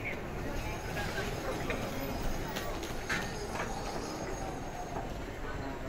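Train pulling into a platform on the Sanyo Main Line near Hiroshima, a steady low rumble with faint wheel squeal heard from the platform at moderate distance.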